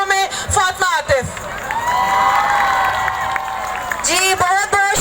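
A crowd at an International Women's Day march cheers, whoops and applauds a speaker, the sustained roar loud and close, with brief voices before and after.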